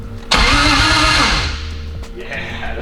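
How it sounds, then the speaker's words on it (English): A starter cranks a mystery 1JZ engine swapped into a JZX100, whirring loudly and fast for about a second before the engine catches and settles into a steady idle. "Yeah, that thing cranks fast."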